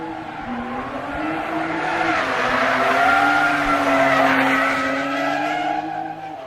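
A car skids through a grassroots racing qualifying run, its tires squealing in a long, loud, wavering howl that swells and eases over engine drone.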